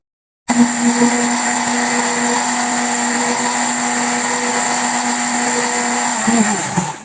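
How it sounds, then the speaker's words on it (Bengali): A blender whirs loudly and steadily for several seconds, blending a raw mango drink with cold water, starting abruptly and winding down at the end. "পরিমাপ মতো ঠান্ডা পানি দিয়ে ব্লেন্ডারে বিট করে নিব।"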